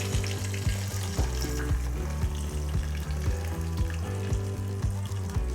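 Onions and green chillies sautéing in hot oil with curry leaves for a Tamil fish curry, a steady loud sizzle and crackle with rhythmic stirring knocks, no talking.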